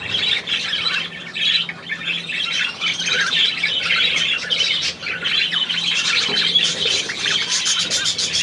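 Budgerigar squawking and chirping continuously at close range, a dense stream of sharp, bright calls with no pauses across the whole stretch.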